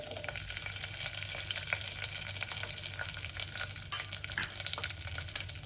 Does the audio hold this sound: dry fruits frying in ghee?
yes